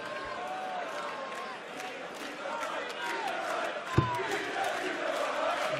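A darts crowd at the 2017 European Darts Championship in Hasselt roars steadily in support of Peter Wright, a dense sustained wash of cheering and chanting with a brief thump near the middle.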